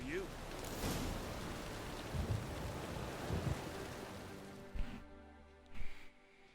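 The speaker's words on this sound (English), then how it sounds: "Rain again." Broad rain noise in the video game Witcher 3 washes through most of the clip, then drops out near the end, where a couple of short thumps break the quieter stretch.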